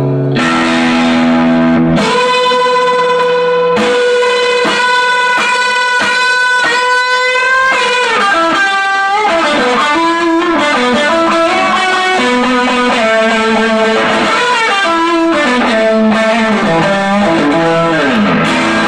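Electric guitar played through effects for a quacky, distorted tone, a continuous loud run of chords and melodic notes with sustain and reverb, no talking.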